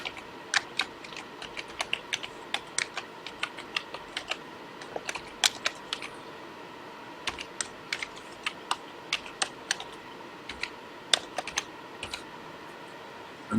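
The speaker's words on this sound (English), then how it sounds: "And here I type in" Typing on a computer keyboard, close and clear, with irregular bursts of crisp key clicks and short pauses, no voices.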